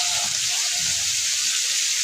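Vegetables frying in hot oil with turmeric and salt, a steady bright sizzle with faint stirring underneath, close and continuous.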